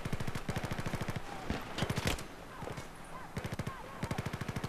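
Rapid automatic gunfire bursts in the Battlefield 4 video game, loud and close, interspersed with scattered single shots and brief lulls, with a faint voice in the background.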